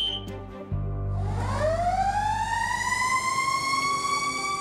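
A fire engine's siren winds up from low to a high sustained wail, loud and close, over a heavy engine rumble as the truck pulls in to a store fire.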